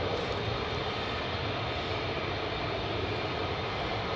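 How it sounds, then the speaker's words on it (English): KC-135 air-to-air refueling tanker flying near RAF Lakenheath, a steady broad faint roar of jet engines throughout, heard from a distance and without variation. "a KC-135 AAR air-to-air retanker, air-to-air refueler tanker aircraft"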